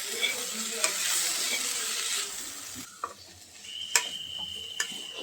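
Curry cooking in oil in a pan, a soft sizzle stirred now and then, with the frying hiss fading partway through and a few sharp clicks of a spoon against the pan, fairly quiet and without talk.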